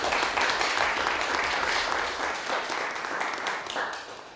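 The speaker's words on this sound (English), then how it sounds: "So put your hands together for Rena." An audience at a poetry reading applauds a poet, a dense burst of clapping that starts strong and gradually thins and fades toward the end.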